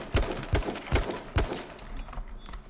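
Rapid bursts of gunfire in an online battle royale match, four sharp loud shots spaced about half a second apart, then quieter distant pops trailing off with no talking.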